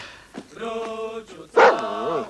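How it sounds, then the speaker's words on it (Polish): A dog barks and whines in a few short, excited yelps, close by and fairly loud, with a higher-pitched wavering bark near the end. "Ładny pies."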